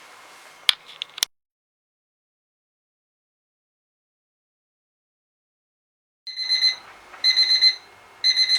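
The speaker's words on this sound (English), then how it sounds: "So I will be back as soon as that alarm goes off." An oven timer alarm goes off while cupcakes bake, beeping in short repeated bursts after a long silence, clear and close with a few brief clicks before.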